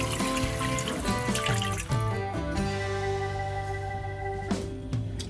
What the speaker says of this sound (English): And I'll add in around 1 cup of water